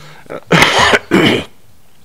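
A speaker at a municipal council meeting coughs into the microphone, two loud, close, harsh bursts with a short gap between them, followed by quiet.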